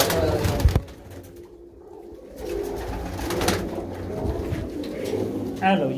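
A caught female pigeon among kept racing pigeons coos softly nearby, its low calls mixed with people talking and some handling noise.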